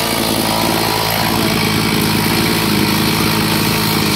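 A chainsaw cuts into a coconut tree near a house, its engine droning loud and steady throughout with no pauses.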